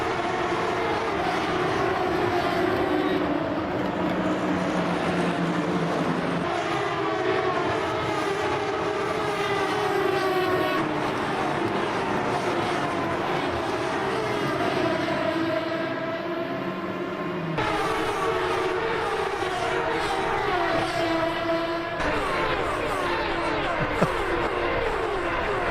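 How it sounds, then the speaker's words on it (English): A racing car engine in the Le Mans Ultimate sim roars continuously and loudly, its pitch rising and falling through gear changes, with exhaust pops and crackles mixed into the drone. "All those exhaust pops and crackles."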